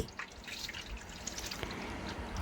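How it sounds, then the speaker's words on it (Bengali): Rice-washing water pours and drips out of a pot as it is drained off while preparing puffed rice at home. The sound is a short, quiet, steady trickle with soft splashes and no talking. "আবার জলটা ফেলে দিচ্ছি"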